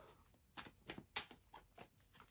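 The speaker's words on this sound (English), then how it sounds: "Let me shuffle the cards for Capricorn." Tarot cards being shuffled by hand during a reading, a quiet run of soft riffling slaps and flicks at an irregular rhythm, close and faint with no talking.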